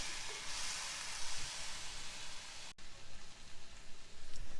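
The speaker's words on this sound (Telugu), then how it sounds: "మనం ఇలా మధ్య మధ్యలో కలుపుతూ పాలకూరను బాగా వేగనివ్వాలి." Spinach and garlic fry in a pan, giving a steady close sizzle with soft crackles and occasional stirring, with no talk.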